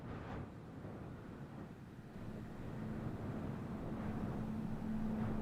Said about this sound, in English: I need a little bit of Vex Desert Winds.